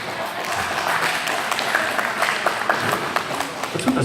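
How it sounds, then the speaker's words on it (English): Audience clapping spreads through a game-show studio crowd, a fairly steady patter of many hands at moderate level, slightly thin and uneven rather than a roaring ovation. "What's with the slow clap back there?"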